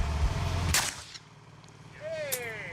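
A single sharp, loud report from a gyrojet rocket pistol at the start, followed by a whooshing, whistling tone as the projectile flies away.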